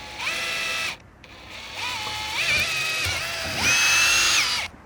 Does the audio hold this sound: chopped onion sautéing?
no